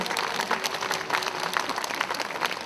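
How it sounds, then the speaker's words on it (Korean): Audience applause fills the opening ceremony of a Buddhist culture festival, a dense, steady wash of clapping from a crowd that holds even throughout. "조금 늦었지만 따뜻한 박수 한번 보내주시면 좋겠습니다."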